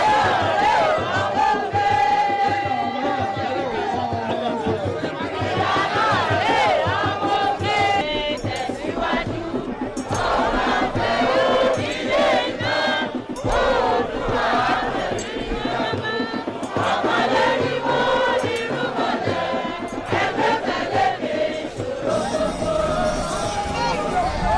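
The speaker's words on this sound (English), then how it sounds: "The enthusiastic PDP supporters were in the motorcade, dancing and singing in some part of the major roads of Ile-Ife." Loud crowd of PDP party supporters in a motorcade on the major roads of Ile-Ife, cheering, singing and chanting continuously with dense overlapping voices throughout.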